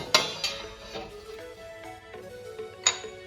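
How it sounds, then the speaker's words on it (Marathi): A few light metallic clinks and taps as a second lid is set onto a pot steaming dhokla, with a sharper clatter near the end, close and moderately quiet. "त्याच्यावर अजून एक झाकण ठेवायचंय।"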